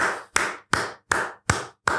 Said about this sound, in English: But I am clapping